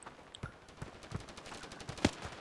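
Gunfire from a rifle in a shooting video game: a handful of sharp, separate shots at irregular spacing, the loudest near the end, over a low game background.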